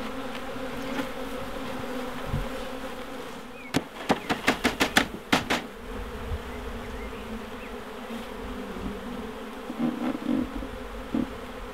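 Bees buzz steadily at close range during a rescue of a colony from a trailer, a continuous droning hum; around midway a quick series of sharp knocks or taps cuts through before the humming carries on.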